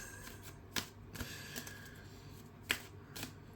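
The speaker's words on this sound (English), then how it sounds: "These cards... I'm not shuffling very well." Tarot cards shuffled unsteadily by hand, a couple of sharp papery snaps standing out among soft riffling rustles, close and fairly quiet with no talk.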